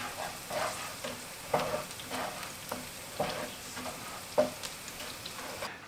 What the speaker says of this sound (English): Mix onion with garlic.